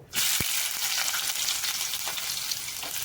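Onions dropped into hot oil with mustard seeds for a Tamil-style manathakkali keerai dish, setting off a loud, steady sizzle and frying hiss with a few sharp pops near the start, close up and without talk.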